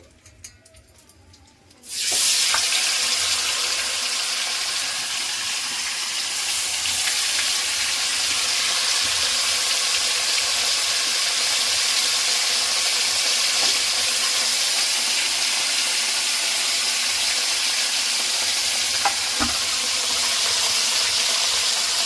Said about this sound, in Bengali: পনিরটা আমি হালকা করে ভেজে নিয়েছি